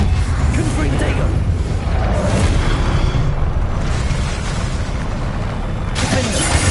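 Fiery Confringo blast spells explode one after another in the Hogwarts Legacy video game. Loud, booming bursts roll together with rumbling debris, and a voice speaks over the blasts.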